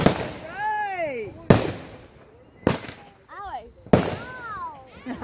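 Fourth of July fireworks going off outside, four sharp cracks roughly a second apart, each trailed by warbling whistles, while a child and others cheer nearby.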